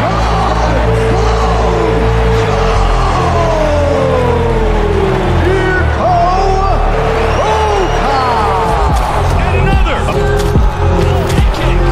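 A capacity arena crowd in the UFC Undisputed 3 video game cheers and roars steadily. The noise is loud and continuous, with rising tonal sweeps and an announcer-style voice over it.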